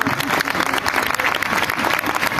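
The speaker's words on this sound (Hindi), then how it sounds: "तालियां बजाइए।" An audience applauds at the close of a song at a live program, giving loud, dense and continuous clapping that fills the short moment.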